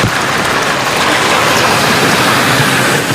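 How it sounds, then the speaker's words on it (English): Steady, loud rain pouring down, a dense continuous hiss of drops striking a surface with no pauses. "This rain has been challenging for drivers,"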